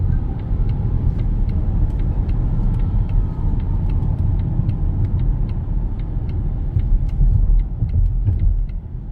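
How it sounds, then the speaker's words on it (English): Volvo XC40 Recharge electric car accelerating hard from 0 to 100, a steady loud low road and tyre rumble with wind noise filling the cabin, faint ticking clicks scattered over the top, no speech. "I thought I'll give you a demo of how quickly this car hits the 0 to 100 mark."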